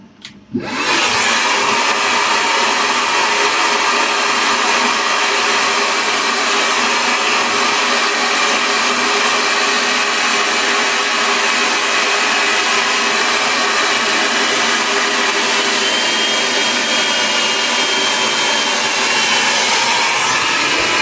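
A GHD Helios hair dryer runs close by, starting after a brief quiet moment and then blowing as a steady, loud, airy whoosh with no break for about twenty seconds.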